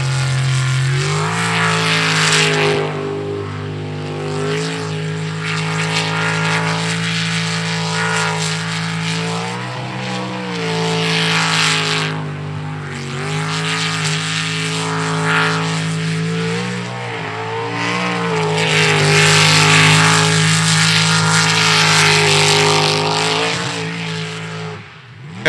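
An unlimited-class race boat engine on a qualifier run: a loud, continuous high-revving roar with a steady droning pitch that swells and eases slightly, sustained throughout.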